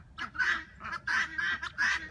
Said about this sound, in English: Guinea's making noises.